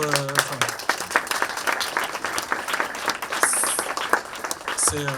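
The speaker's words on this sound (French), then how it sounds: "je veux que vous les applaudissiez beaucoup" Audience applause at the UniFrance award ceremony of the Off-Courts 2020 festival: dense, steady clapping from a crowd that fills the whole stretch, with a voice speaking briefly at the start and again at the end.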